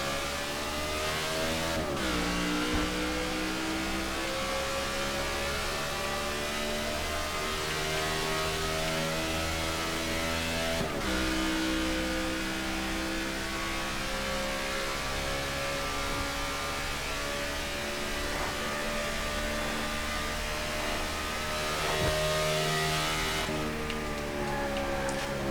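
A stock car engine drones steadily during an outlap at Pocono in a NASCAR video game, a loud continuous whine that shifts pitch with a few abrupt gear changes.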